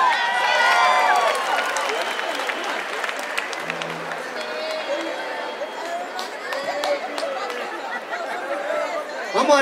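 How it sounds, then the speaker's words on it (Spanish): A concert crowd at a salsa night applauds and cheers in a large room, the claps and voices spread out and lively, with a voice speaking over them. "Un aplauso para ustedes mismos, que se escuche, mi gente."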